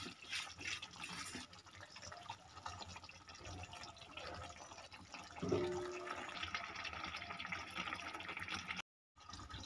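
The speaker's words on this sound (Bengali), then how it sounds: "জল দিয়ে দিচ্ছি" Water poured into a cooking pot while making a Bengali desi chicken roast, a steady splashing, gurgling stream that swells midway and stops abruptly near the end, close and unaccompanied by speech.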